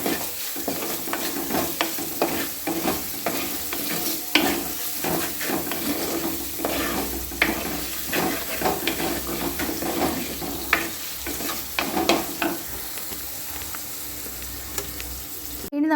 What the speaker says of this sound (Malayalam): സവോളയും ചേർത്തിട്ട് നന്നായിട്ട് കുറച്ച് ഉപ്പും കൂടെ ചേർത്തിട്ട് നല്ല പോലെ ഒന്ന് വഴറ്റിയെടുക്കുക